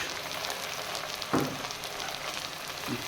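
Tomatoes and chopped green chilies drop into garlic-ginger paste already frying in a pot, giving a steady close sizzle with a brief louder burst of added ingredients, no talking.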